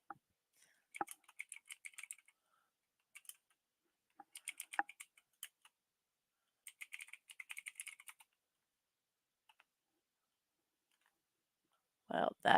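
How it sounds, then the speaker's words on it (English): Bursts of quick clicking keystrokes on a computer keyboard, close and crisp, separated by short pauses, with a brief voice at the very end. "trying to type"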